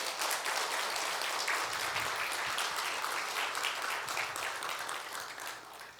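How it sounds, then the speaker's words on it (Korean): Church congregation at a Friday worship service breaking into dense, continuous applause, a wash of many hands clapping together at full strength before tapering off slightly near the end. "우리 하나님께 영광의 박수 한번 올려드립니다"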